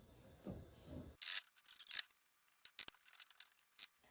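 A whisk scrapes and squishes ripe bananas mixed with brown sugar in a bowl for banana bread, in short irregular rubbing strokes heard up close, following a brief soft low thump.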